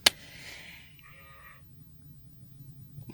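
A sheep bleats once, fairly faint and brief, after a sharp click at the start, with quiet background noise.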